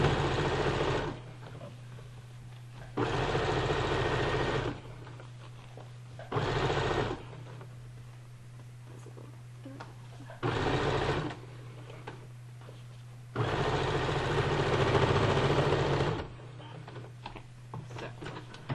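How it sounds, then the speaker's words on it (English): A sewing machine top stitching new elastic on a cloth diaper runs in several bursts of whirring stitching separated by pauses, with a low steady hum throughout, close and fairly loud. "my diaper now has new elastic and new top stitching down the legs"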